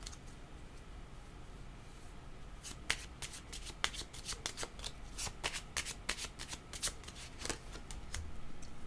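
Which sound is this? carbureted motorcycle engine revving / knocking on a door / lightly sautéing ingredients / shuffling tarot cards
shuffling tarot cards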